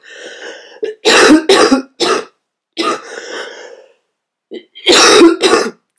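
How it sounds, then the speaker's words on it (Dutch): Someone coughs and clears their throat during a cold, with harsh, loud bursts in clusters of two or three, close to the microphone and separated by brief silences. "Ik word alleen helemaal gek van dat hoesten"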